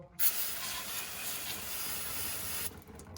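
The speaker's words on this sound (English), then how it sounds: "the next part we're gonna do is gonna be doing some brake clean, and we're gonna spray it all down" A steady, hissing spray of aerosol brake cleaner during a HMMWV 6.2L diesel oil change runs for a few seconds without a break, then cuts off abruptly.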